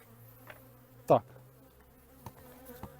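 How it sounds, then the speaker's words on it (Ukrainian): Agitated bees hum faintly around an opened hive, with one close, sharp buzz as an insect darts past the microphone. "Бачите, да, бджоли нервують."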